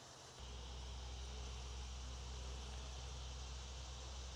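Honey bees drone steadily at an open hive colony, a dense continuous buzzing hum that swells in just after the start and holds close and even throughout, with no talking.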